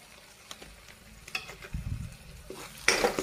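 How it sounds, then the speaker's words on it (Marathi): Mutton masala frying and being stirred in a pan for a Marathi vajadi (offal) recipe: soft sizzling with intermittent scraping stirs, a louder stir near the end, close and alone with no talk. "आता आपला मसाला पण छान तळलेला आहे"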